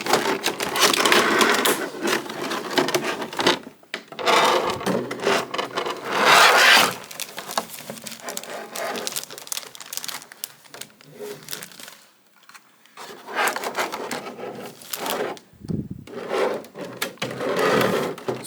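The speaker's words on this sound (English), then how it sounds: "So now we just have to open up the casing here." Cardboard and plastic rustle and scrape as the casing of a boxed S.H. MonsterArts Anguirus figure is opened, in close, uneven bursts of rubbing and crinkling with short pauses.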